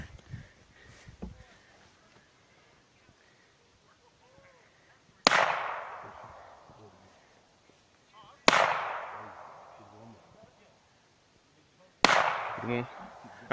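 Three loud gunshots crack during a shooting drill, each a sharp blast with a long decaying tail, spaced a few seconds apart after a quieter stretch with faint voices early on.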